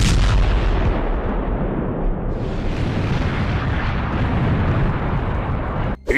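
An animated character's cartoon explosion bursts loud and close, a roaring, rumbling blast that sustains for several seconds before cutting off abruptly.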